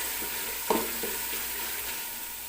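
Ginger frying in a pan for aloo matar pulao, a quiet continuous sizzle with a brief stir or scrape near the start, no voices.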